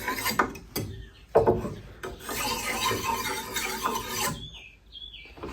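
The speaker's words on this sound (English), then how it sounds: "so we've just ground our shears, and as you sharpen down through the steel, your point will get sharper and sharper" Blade shears are ground and sharpened on steel, giving a steady harsh rasping grind broken by short bursts and pauses, close and fairly loud.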